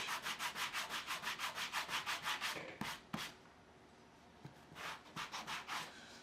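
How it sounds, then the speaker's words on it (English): Hand sanding along the edges of a craft project, a close, steady run of rhythmic rasping strokes that stops, returns in a few scattered strokes, then resumes in a shorter rhythmic burst. "You want to sand it as much as you can so that it's nice and smooth."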